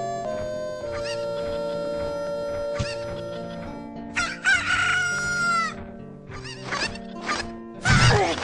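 A video game chicken lets out a stretched electronic crow and scattered clucks over a steady synthesized music background, with sharp game effects toward the end.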